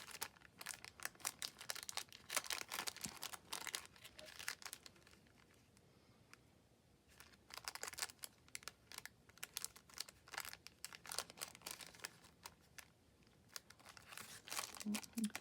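Cellophane crinkled and handled while being fitted as a clear pocket on a notebook cover, producing bursts of crisp rustling close by, separated by quieter pauses.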